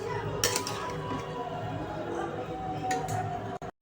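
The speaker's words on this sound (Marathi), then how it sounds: "तर आपण छान असं मिक्स करूया." Pink masala pasta being stirred in a pan, a steady close scraping and clinking of utensil against metal with a thick, saucy texture, continuous for a few seconds before stopping abruptly.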